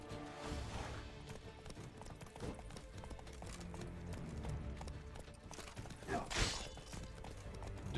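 Horse hooves clip-clop steadily on ground in The Witcher 3, with a louder whinny near the end, all under constant game ambience.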